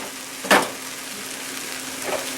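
Stew with Hungarian dumplings warming in a pan gives a soft, continuous sizzle, broken by one sharp stir or scrape near the start and a fainter one later, heard close without speech.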